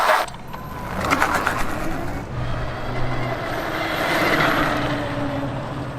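Mini bike engine revved under hard throttle on pavement, a loud continuous mechanical drone that climbs and holds steady for several seconds with no talking.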